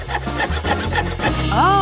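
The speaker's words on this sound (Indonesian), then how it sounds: "Oh Tuhan, gergaji!" A saw cuts open a cardboard Pringles can with rapid, close, rasping back-and-forth strokes, and a voice briefly cries out at the end.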